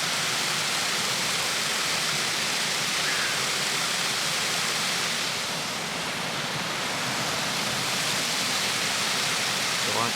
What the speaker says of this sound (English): This water is going. I never heard it rush this much.